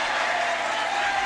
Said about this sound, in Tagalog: this might actually be the either the 16 or 18 under squad cheering